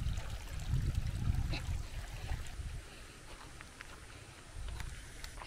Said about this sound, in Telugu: చిన్న చిన్న వాటర్ ఫ్లోస్ ఇవన్నీ.